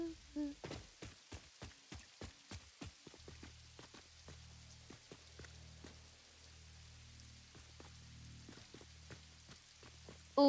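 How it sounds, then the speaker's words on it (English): Steady rain patters through a video game scene, with soft hiss and a run of sharp droplet or step-like ticks over a low hum, fairly quiet and with no talking. "the rain's really got me messed up"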